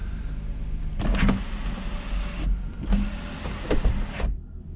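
Car power windows whirring on a rebuilt vehicle, two separate motor runs of about a second and a half each, close and clear, the glass moving up and down with a soft thunk at each stop.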